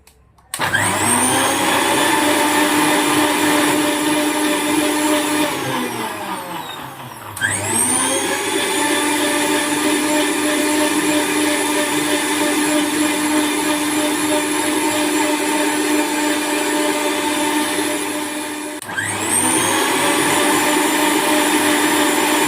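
A loud blender whirs continuously in long bursts while making a fig and almond milkshake, briefly dropping in pitch and surging back up between runs.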